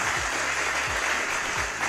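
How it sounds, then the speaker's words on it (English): Applause rings out during a livestream celebrating winners, a steady wash of clapping that holds at an even level for a couple of seconds, with no voices over it. "Clap it up for him."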